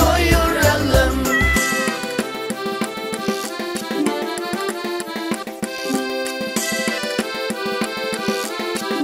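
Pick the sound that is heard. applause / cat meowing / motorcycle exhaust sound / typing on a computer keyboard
cat meowing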